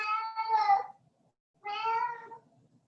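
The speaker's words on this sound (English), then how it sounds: "Enjoying the cat's meow." A cat gives two drawn-out meows, close and clear, separated by a brief silence in an otherwise quiet room.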